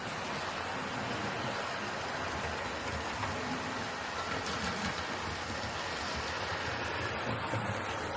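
Dapol Class 22 Baby Warship model diesel locomotive pulling three coaches along a model railway, a faint steady running rumble with soft rail clatter throughout, no talking.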